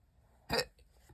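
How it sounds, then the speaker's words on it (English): A single sharp hiccup from a person working on a micro macrame bracelet, close and brief in an otherwise quiet room. "I've had the hiccups on and off all day today."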